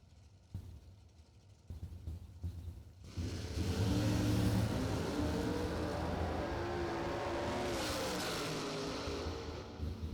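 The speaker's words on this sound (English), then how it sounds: "Stinnett door car 558. Darren Spears dragster 458." Drag racing pairing of a dragster and a door car: a few sharp engine blips, then a loud sustained roaring launch with rising, shifting engine tones that stays strong to the end, without speech.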